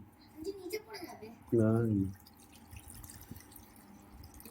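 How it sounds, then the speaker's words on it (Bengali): Water poured over cooked rice to make panta bhat, a short gurgling splash of about half a second midway, close and fairly loud, with quiet kitchen noises and faint voices around it. "ব্যাস এইবার জলটা ঢেলে নিচ্ছি"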